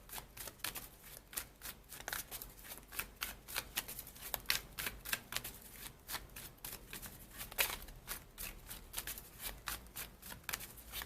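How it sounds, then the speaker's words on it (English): Tarot cards are shuffled and drawn by hand in a quick, irregular run of crisp riffles and flicks, close and fairly quiet, with no talking. "let me pull some more cards so I can tell you more"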